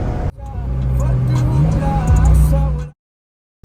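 A Porsche GT3 RS engine pulls strongly after a downshift, a loud close rising drone that cuts off abruptly into silence, with a voice heard briefly.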